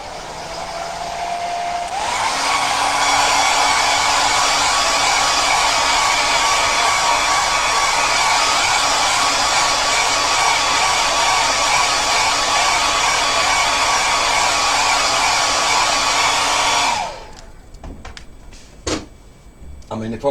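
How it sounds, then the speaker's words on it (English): A hairdryer blows to dry a watercolour crayon print made with a gel press, switching on with a rising whine into a loud, steady roar that runs for about fifteen seconds, then cuts off into clicks and handling noises. "you're not listening to the hairdryer."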